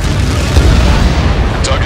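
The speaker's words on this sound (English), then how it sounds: "Target confirmed. Dropping the bomb now." A bomb detonating on a missile silo target in the combat flight game Ace Combat 7, a loud, dense boom with sustained rumbling roar for the whole moment.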